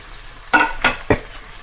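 Ginger, onion and tomato sautéing in a pan for a chana dal and bottle gourd dish, three quick scraping spatula strokes with a faint sizzle beneath, close and brief, no talk.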